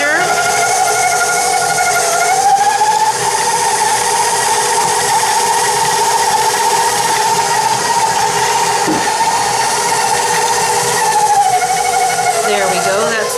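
An electric mixer creams a mixture in a bowl, a loud, continuous whirring motor hum with a steady high whine that holds for the whole stretch and shifts slightly near the end.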